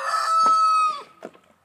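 A rooster crows loudly and close by in a single long, sustained call, followed by a few short clucks from chickens kept alongside meat rabbits in summer housing, with no talking.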